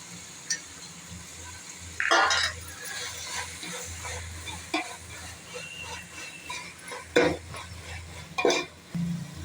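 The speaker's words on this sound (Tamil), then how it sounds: "புதினா எல்லாம் நல்லா வதங்கிடுச்சுங்க" Mint and coriander sauté in a pan for a vegetable brinji, with scraping stir strokes around 2, 7 and 8.5 seconds over a low, steady sizzle and a faint background hum.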